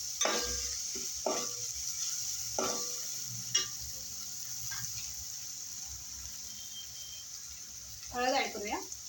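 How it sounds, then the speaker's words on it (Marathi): Chili, garlic and curry leaves sizzling in hot oil in a pan for mung dal khichdi, a steady frying hiss with scraping stirs, under occasional voice. "मग आपण त्यात मिरची ॲड करूया, लसूण ॲड करूया आणि कढीपत्ता ॲड करूया. चांगलं मिक्स करून घेऊया."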